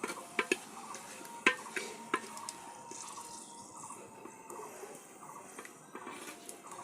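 Meat frying in a clay pot, stirred with a utensil, gives a soft low sizzle broken by sharp clinks and scrapes against the pot, close and moderately quiet.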